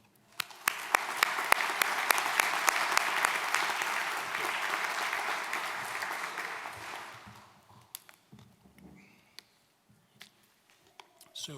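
Audience applause welcomes the keynote speaker at a spring graduate studies convocation. Loud, dense clapping fills a large hall for about seven seconds and then tapers into scattered claps and quiet room noise.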